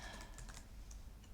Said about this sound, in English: your fingers just type in ls-la